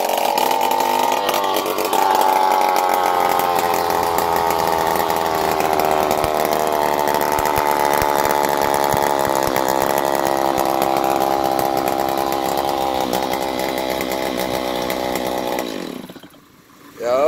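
A Stihl MS 290 commercial chainsaw runs loud and close at a steady high pitch for a long stretch, then drops away briefly near the end.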